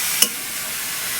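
Colocasia greens frying in a pan, a steady loud sizzle with one quick clink of the stirring utensil near the start and no voices.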